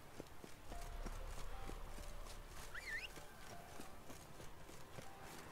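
Horse hooves clop in a steady, even rhythm in the video game The Witcher 3: Wild Hunt, faint and distant, with a brief chirp partway through.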